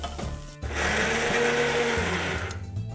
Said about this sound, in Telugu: కొంచెం మిక్సీ పట్టేరా